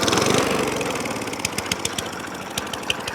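Atco Balmoral lawn mower engine running rough and uneven, in need of carburetor work, with irregular pops and misfires over a steady mechanical drone, close and fairly loud.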